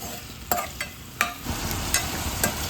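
Onion and capsicum being sautéed in a pan, a soft background sizzle broken by several sharp spatula scrapes and taps at irregular intervals, close.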